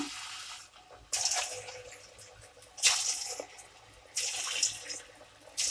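Cauliflower gobi pakoda pieces dropped into hot oil in a pan, with bursts of bubbling sizzle swelling up several times as each batch goes in, fairly close and otherwise quiet.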